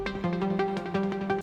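A layered synth chord patch from Analog Lab sustains steady pitched tones, with rhythmic plucked attacks pulsing about every third of a second, clear and up front with no voice.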